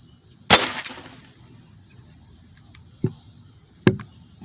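An air gun fires a slug at a yellow and white target, a sharp close crack followed by a brief rattle, then two quieter knocks, over a steady high outdoor insect drone.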